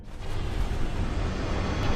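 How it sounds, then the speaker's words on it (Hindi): A deep, heavy rumbling roar, loud and continuous like the aftermath of a big explosion, with broadband noise sustained throughout and no voices. "अरे इतना बड़ा धमाका,"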